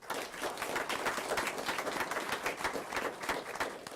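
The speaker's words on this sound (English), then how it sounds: "let's give a round of applause to Isabella Aranda" A crowd applauds steadily at a school board meeting, honouring a graphic arts and animation student. The clapping is dense and continuous but fairly soft and distant throughout.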